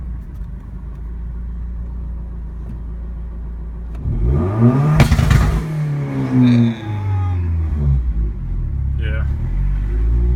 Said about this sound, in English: Just hear the two-step